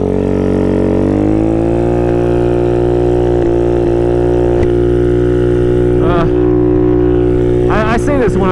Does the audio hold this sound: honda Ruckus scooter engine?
yes